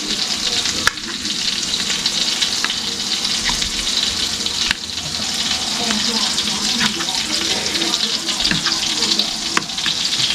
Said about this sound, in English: Start frying it up.